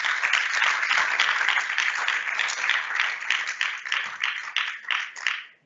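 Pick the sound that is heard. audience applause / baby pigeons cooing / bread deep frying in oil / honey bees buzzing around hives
audience applause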